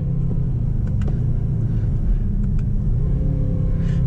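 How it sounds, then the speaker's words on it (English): Mercedes-AMG GT 63 S with a twin-turbo V8 driving, a steady deep engine rumble from inside the cabin, loud and even throughout. "You got the twin turbo V8 engine."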